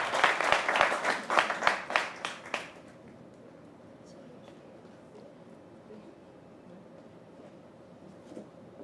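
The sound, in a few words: applause for participants receiving certificates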